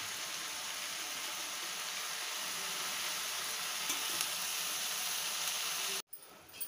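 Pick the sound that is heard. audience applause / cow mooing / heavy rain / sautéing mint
sautéing mint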